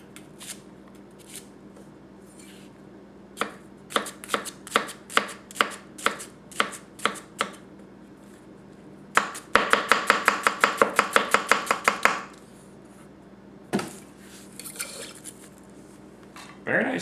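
A Tanaka Kurouchi 210mm gyuto knife chops onions on a board: sparse single crisp strikes, then a fast even run of about a dozen cuts, then a few more, close up.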